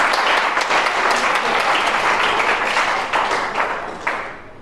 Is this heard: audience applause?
yes